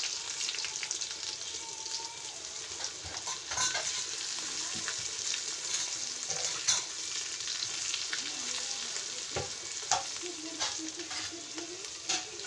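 Stuffed bitter gourd (korola) frying in oil in a pan gives a steady, close crackling sizzle with scattered pops and spatula scrapes throughout.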